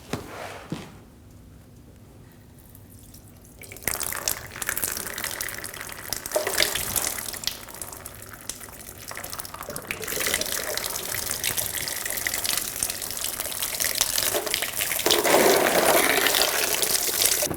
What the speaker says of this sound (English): Let all the fluid drain out of the radiator.